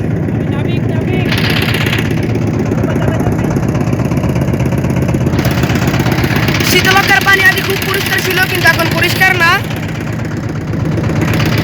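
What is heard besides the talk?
engine of a trawler boat on the Shitalakshya river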